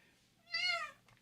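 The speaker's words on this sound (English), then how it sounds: "did you all hear my cat?" A house cat gives a single rising-and-falling meow, fairly quiet and fairly close, standing out briefly against a near-silent room.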